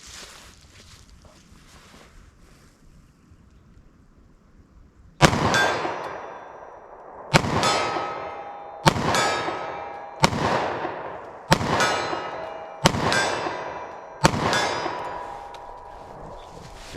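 Shots from a short-barrel .45 ACP pistol loaded with Federal Syntech Defense ammo at an outdoor range: after a quiet stretch, seven sharp, loud reports ring out at irregular intervals of one to two seconds, each with a ringing tail.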